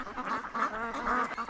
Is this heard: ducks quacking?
yes